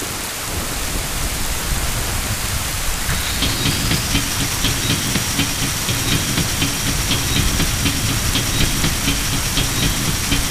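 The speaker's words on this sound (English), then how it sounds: "Now it's raining." Steady video game rain in Zelda: Ocarina of Time pours down throughout, a dense hiss with faint rumbling underneath and a thin tonal layer joining partway through; no voices.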